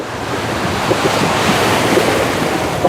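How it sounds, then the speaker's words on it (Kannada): Ocean waves surge steadily onto the shore at Malpe Beach, Karnataka, a continuous broadband roar of surf with wind buffeting the microphone and no voices. "ಅಲೆ ಅಲೆ ಅಲೆ ಅಲೆ ಬರ್ತೈತೆ"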